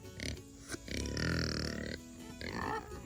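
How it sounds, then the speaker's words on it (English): Several farm pigs grunting and snorting close by in a pen, with low rough grunts and a longer drawn-out grumble in the middle, heard alone without talk. "Let's go say hi to the pigs."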